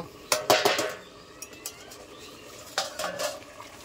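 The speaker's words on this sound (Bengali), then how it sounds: "এবার দিয়ে দেবো ঢাকা।" A metal lid is set onto a pot of thin chicken curry, giving a few quick clattering clanks near the start and another short rattle near the end, with quiet kitchen background between and no talking.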